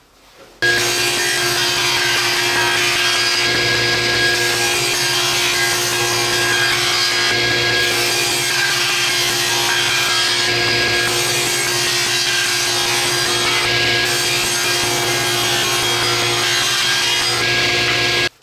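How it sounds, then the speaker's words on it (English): Saw cutting walnut slabs into 3/4-inch thick 30-degree slices, a loud continuous motor hum and blade rasp running steadily through the whole stretch with slight periodic dips, no voices. "Let's get these two slabs cut up into 3/4 inch thick 30-degree slices."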